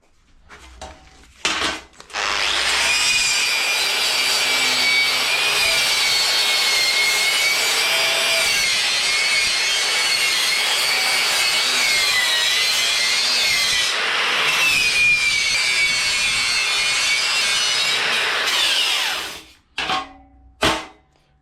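Rust is scrubbed off a metal mudguard bracket with a harsh, continuous abrasive scraping that runs steadily for roughly seventeen seconds at close range, with only brief clatter before and after.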